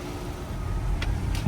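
A car rolls through a parking lot at low speed, giving a soft, steady low rumble with a couple of faint higher ticks.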